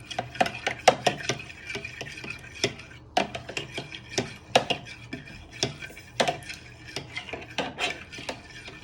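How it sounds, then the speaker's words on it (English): A fork stirs a mixture in a bowl for a bread dough, giving quick scraping clinks and taps in an irregular rhythm, close and moderately quiet, with no talking. "give it a little bit of a stir with a fork so it all evaporates in"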